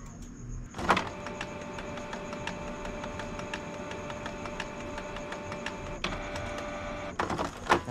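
A Canon G2010 inkjet printer, filled with non-Canon pigment ink, runs a deep clean cycle: a steady, quiet mechanical whir with soft clicks and a few louder clunks at the start and end.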